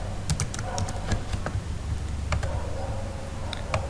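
Steady clicking of code being typed on a computer keyboard, irregular keystrokes close by over a constant low background hum, with no voices.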